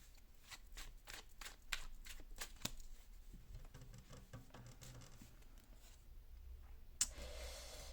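Tarot cards shuffled and drawn at a reading table, a rapid series of close, crisp flicks and riffles in the first few seconds, then softer handling and a brief sharp snap near the end, with no talk.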